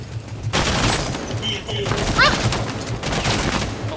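Bursts of gunfire in the tactical shooter Rainbow Six Siege, a loud volley starting after a short pause then ragged shots continuing, with excited voices talking over the firing.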